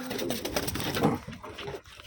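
Thin Taiwan racing pigeons coo in a soft, rolling burst of several low throaty calls, close and moderately quiet with faint background noise.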